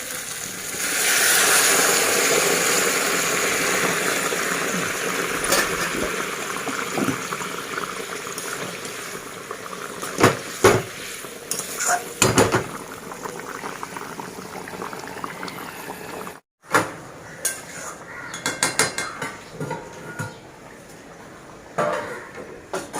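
Hot water goes into a pot of spiced chicken curry, a bubbling, boiling rush at first that settles into a simmer, broken by scattered clinks and knocks near the end.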